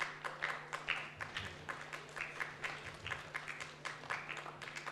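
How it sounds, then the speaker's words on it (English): Quiet applause from an audience at a chapel gathering, scattered and uneven hand claps with a low hum underneath, lasting several seconds. "A round of applause."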